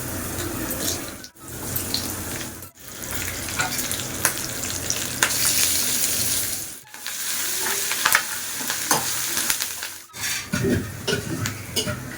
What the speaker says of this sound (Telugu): సో నిమ్మకాయ పులిహోరకి కావాల్సిన తాలింపు రెడీగా ఉంది